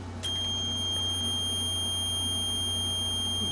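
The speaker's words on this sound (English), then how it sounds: "When there's continuity, there will be a sound, a beep." A multimeter's continuity beep, a single continuous high-pitched electronic tone, sounds steadily from start to finish against a low background hum, close and clear, while testing a ground wire on a 1960 Gibson Melody Maker guitar.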